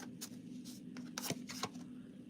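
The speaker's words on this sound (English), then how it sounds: "I'm going to shuffle a little more." Tarot cards being shuffled by hand, a series of quick papery riffles and slaps in irregular bursts, close and fairly quiet, with no talk.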